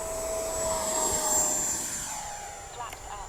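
An FMS Futura V3 RC jet on a 6S battery flying with a steady high-pitched electric ducted-fan whine that swells and fades slightly as it passes, heard outdoors under broadband wind noise.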